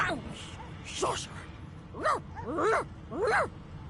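A dog in the Divinity video game whines, giving several rising and falling whimpers with short pauses between them, heard close over a low background.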